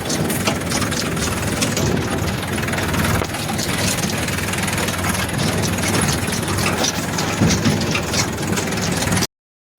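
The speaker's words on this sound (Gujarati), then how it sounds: "તો જોજો અમે ટ્રેક્ટર લઈને સાંજે ફરવા જઈએ" A farm tractor engine running steadily at close range, a dense rumbling drone with rattling vibration that holds constant for about nine seconds before cutting off abruptly.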